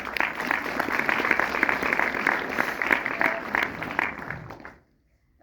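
Audience applause in a festival hall at a young actors' film festival in Paris, sustained clapping from a crowd that fades out near the end.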